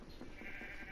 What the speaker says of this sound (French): Mouton, là. Oh, ce mouton, il vient me.